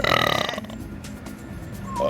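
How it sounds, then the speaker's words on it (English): A loud, drawn-out burp with a rough pulsing rattle opens a burp contest, then trails off into quieter rustling and a faint voice near the end. "you wanna have a burp contest?"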